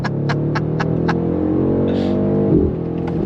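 A BMW M850i twin-turbo V8 pulls away from a standstill, its engine note a loud, steady throbbing drone heard from inside the cabin, with a few sharp clicks at first and a brief bump as it settles.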